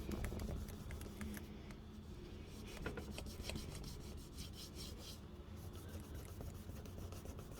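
Repeated rasping rubs of a sponge scrubbing grime from a very dirty window, close and steady with short rhythmic strokes throughout.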